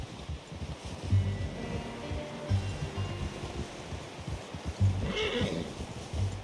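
A horse in the video game Red Dead Redemption 2 snorts and whinnies, heard once near the end amid soft low rumbling ambience and faint hoof-like thumps.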